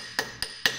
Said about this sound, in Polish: młoteczek spawalniczy do pukania